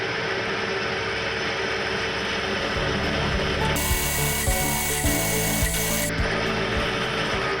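A metal-machining milling machine drills hard material with cutting fluid, producing a loud, steady mechanical whir and grinding with a rhythmic ratcheting clatter, with a brief brighter high-pitched whine midway and no talking.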